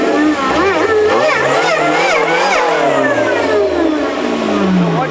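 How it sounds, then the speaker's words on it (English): A supercharged 1.6-litre Suzuki Baleno engine revs up and down loudly and close by, its rising and falling engine note topped by a thin, high squeak from the supercharger. "So what you just heard is a supercharger squeaking."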